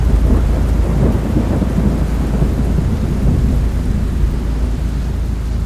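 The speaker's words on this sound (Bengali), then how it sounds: "হঠাৎ করেই যেন বৃষ্টির গতি আরো খানিকটা বেড়ে গেল।" Heavy rain pours steadily while deep thunder rumbles low and continuous underneath, a dense, loud storm used as a horror story sound effect.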